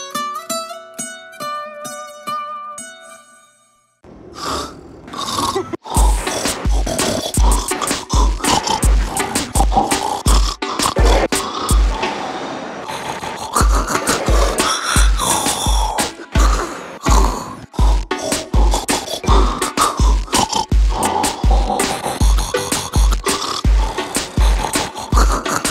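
Snoring recordings remixed into a song, opening with a short melodic intro and then a loud, dense run of rasping snore sounds cut to a steady beat with thumping low pulses.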